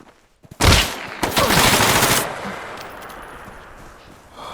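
Gunfire in the realistic military shooter game Bellum, a loud close burst of rapid shots that follows a couple of quieter cracks, then dies away into a fading echo.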